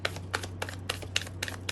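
Tarot cards being shuffled by hand, a quick run of crisp riffling flicks repeating in an uneven rhythm, close and fairly quiet over a low background hum.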